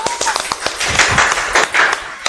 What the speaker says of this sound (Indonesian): Oke, tepuk tangan Seno.